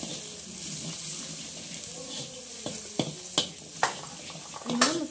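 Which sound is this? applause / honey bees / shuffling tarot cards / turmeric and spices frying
turmeric and spices frying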